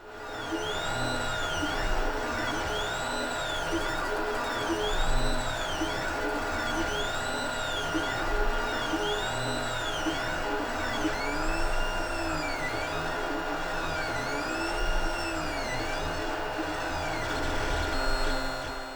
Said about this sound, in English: let's print some more servo horns